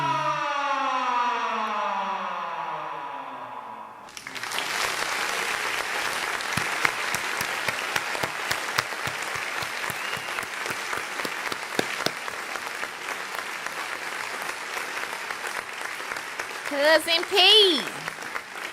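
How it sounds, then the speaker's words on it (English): An audience on a morning talk show breaks into a sustained round of applause with cheering, following a brief siren-like tone at the start; a voice speaks briefly over the clapping. "We sure do appreciate that round of applause."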